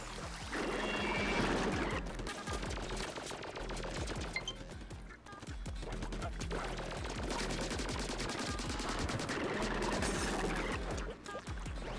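A turret fires in Splatoon 2, a long dense stream of rapid shots that pours on almost without a break for the whole stretch, loud and close, with game music and effects underneath.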